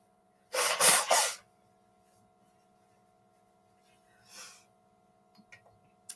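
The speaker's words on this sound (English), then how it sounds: "Hang on, I got to blow my nose." A short, forceful nose blow into a tissue, a double honk close by, followed later by a softer sniff in a quiet room.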